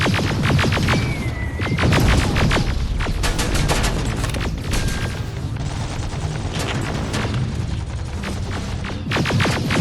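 Grenade blasts and heavy gunfire in the shooter game Terminator: Resistance, a dense, loud barrage of booms and rapid shots running continuously with short repeated bursts.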